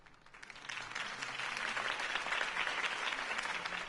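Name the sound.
crowd applause in Batman Telltale Series video game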